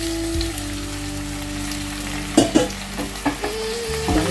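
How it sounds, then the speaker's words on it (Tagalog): Beef brisket hitting hot oil with browned garlic, a steady loud sizzle with a few sharper spatters and stirring clatters partway through. "pag nag-light brown na yung garlic, ilagay na natin ang ating beef brisket"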